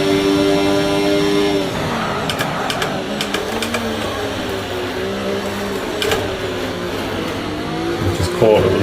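An F1 race car in a video game drives through wet qualifying at the Canadian Grand Prix. The loud engine whine rises and falls steadily as the car slides into oversteer, under a background hiss of spray.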